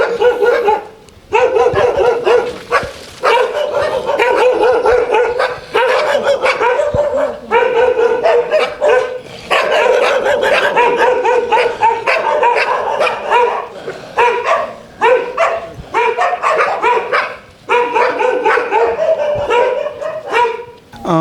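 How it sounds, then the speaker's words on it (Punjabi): Several dogs bark loudly and almost nonstop at close range, with yips and whines mixed into the overlapping barking. "ਇੱਧਰ ਹੀ ਬਹੁਤ ਸਾਰੇ ਡੌਗਸ ਹੈਗੇ ਆ"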